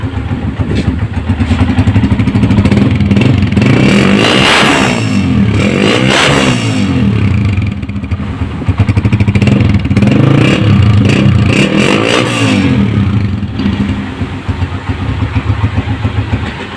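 A 2019 Honda CG 125 motorcycle engine runs steadily up close, a loud continuous rumble with a couple of swells in revs, no voices.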